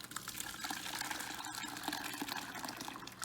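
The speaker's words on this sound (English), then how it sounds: "The liquid will drip down to the bottom, and you'll be left with this beautiful fresh ricotta cheese." Whey drips and trickles from fresh ricotta curds straining through cheesecloth set over a pitcher, a soft, steady, faint liquid patter close by.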